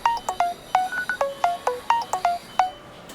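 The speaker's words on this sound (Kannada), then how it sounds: "ಅಣ್ಣ ಫೋನ್ ಮಾಡ್ತಾ ಇದ್ದಾರೆ." Phone ringtone signalling an incoming call, a repeating series of short electronic beeps in a quick, regular pattern, loud and close, with no speech.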